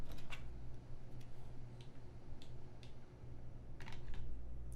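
Typing on a modded Keychron Q1 mechanical keyboard with polyfill: quiet scattered key clicks, irregular and close, over a steady low hum of background noise.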